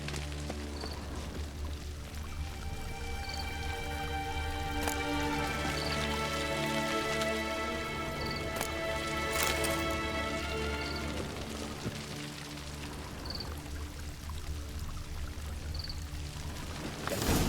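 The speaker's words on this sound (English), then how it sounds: "Divethaf filled the ornate ceremonial bowls with elven wine" Elven wine poured into ornate ceremonial bowls in the game The Witcher 3: a continuous soft liquid trickle and splash, steady and moderately quiet throughout, with faint chiming tones ringing over it.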